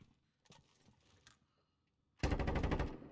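A machine gun fires a sustained burst in the video game Warzone, loud and rapid at the end, after quieter scattered clicks and shuffling.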